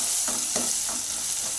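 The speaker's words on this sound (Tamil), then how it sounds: "தாளிக்கிற வெங்காயம் எல்லாம் போட்டு தாளித்து" Oil sizzles steadily in a pan as onions fry toward golden brown for a wheat-flour samosa filling, with a few soft stirring scrapes cutting through the hiss.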